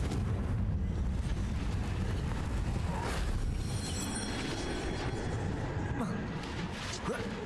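In Hogwarts Legacy, a Confringo blasting spell sets off a sustained, roaring explosion whose dense rumbling crash fills the whole stretch and fades slightly toward the end.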